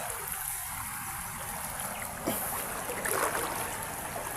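A strong river flows at a gold-panning spot, producing a steady faint rushing wash of water with a slight swell in the second half.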